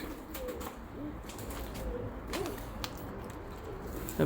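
Pet pigeons kept by a fancier, including white and chocolate birds, coo in a loft with low repeated rolling coos, close and moderately loud, against a steady background hum, with no talk.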